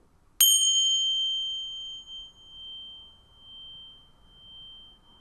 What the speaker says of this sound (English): I'm going to play the sound of a chime.